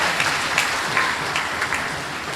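Applause from a dinner crowd at a Christmas political gathering, a steady wash of clapping that holds at an even level for the whole stretch, with no voices over it.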